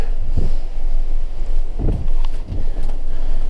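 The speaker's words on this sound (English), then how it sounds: "there is a bit of a brisk wind today" Brisk wind on a mountain top in the Mourne Mountains, buffeting the microphone in several low rumbling gusts over a constant windy background.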